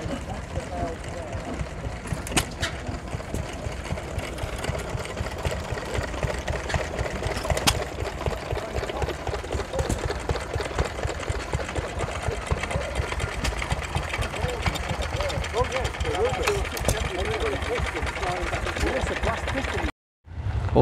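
An old internal combustion engine at an engine museum idles slowly, firing intermittently in a steady, ticking mechanical rhythm that holds close and fairly loud for about twenty seconds, then cuts off briefly near the end.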